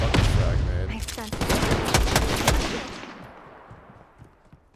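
Loud, dense volleys of video game gunfire rattle rapidly for about three seconds, then thin out and fade into softer scattered shots and noise.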